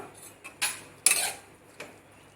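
Cutlery and dish clatter as cooked rice is mixed with salt in a bowl for a Jain food competition dish: a few sharp spoon scrapes and clinks, two louder bursts, close and quiet with no talk.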